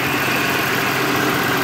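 A 2005 Audi A4 Quattro B6 idles steadily just after starting, following an alternator replacement, giving a constant even engine hum with no breaks.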